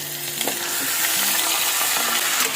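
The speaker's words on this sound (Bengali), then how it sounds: "আবার ভালোভাবে চিকেনটা দিয়ে কষাবো মশলাটার সাথে" Marinated chicken frying in a pan with spice masala, a dense continuous sizzle heard up close, with the light knocks and scrapes of stirring scattered through it and nobody speaking.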